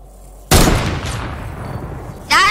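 Sniper rifle fire in Fortnite: a loud, sharp shot bursts out and rings with a long decaying tail, followed about two seconds later by a second crack with a bright metallic ring.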